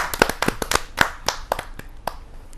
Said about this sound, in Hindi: जोरदार ताली के साथ हम उनका स्वागत करें